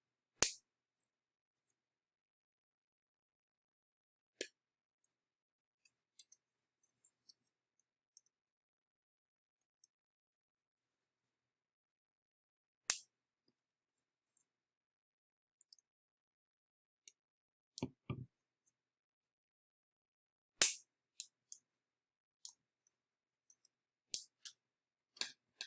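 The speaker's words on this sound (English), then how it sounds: "we're going to just simply use our cutters and trim off the angles" Cutters snip off the angled edges of small plastic assembly pieces, sharp isolated clicks and snaps scattered irregularly over near silence, close and crisp.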